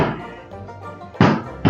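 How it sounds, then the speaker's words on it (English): Neighbors set off Fourth of July fireworks, giving two heavy, dull booms about half a second apart after a quieter stretch, loud and close enough to dominate, with no talking. "My neighbors have been doing fireworks for the past year"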